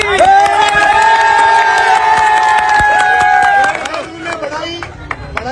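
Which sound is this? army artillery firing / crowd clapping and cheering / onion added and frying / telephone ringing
crowd clapping and cheering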